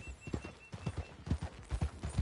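Horse hooves clip-clop in a fast, steady gallop rhythm in the video game Red Dead Redemption 2, a quiet drumming patter with soft whooshes of movement running throughout.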